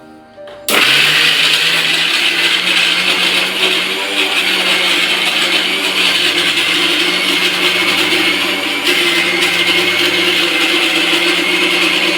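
A mixer grinder kicks on abruptly and runs loud and steady for about eleven seconds, grinding ingredients for a Kerala-style chammanthi (chutney), with a slight shift in tone partway through and no voices.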